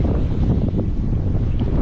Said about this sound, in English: It's still a little windy out.